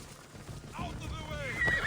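Horses of mounted guards in the video game Assassin's Creed, a close whinny with rising and falling pitch over faint hoof clatter and ambient game noise.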